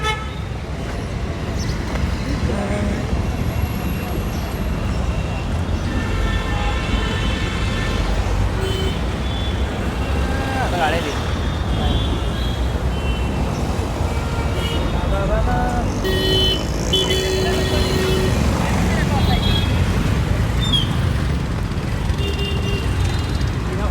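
Heavy road traffic on the drive to Mumbai, a steady rumble of passing vehicles with repeated car horn toots scattered through, and voices talking at times over the noise.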